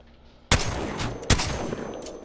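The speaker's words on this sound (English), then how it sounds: "now the Mastiff shotgun. It's got four bullets in the chamber." Two heavy booming blasts from the Mastiff shotgun in the video game Apex Legends, spaced about a second apart, each with a sharp attack and a rumbling decay, with no talking.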